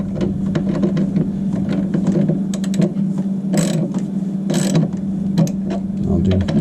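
A ratchet wrench tightens the lower heating element into a Giant water heater, giving a steady run of close, repetitive clicks over a constant low hum.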